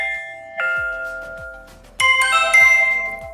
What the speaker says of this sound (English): So that's the ringtones inside of the application.